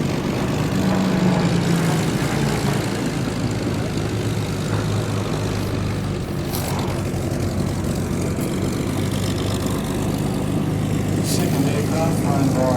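A Supermarine Spitfire, a WW2 warbird painted in the markings of Wing Commander Bobby Gibbs, flying at the Temora airshow in Australia: a steady, loud propeller engine drone holds throughout with a voice talking over it.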